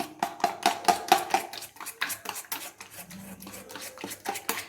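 Flour being stirred into a mashed pumpkin cutlet mixture in a bowl, a rhythmic series of close, scraping, rubbing strokes, steady and fairly loud with no talking.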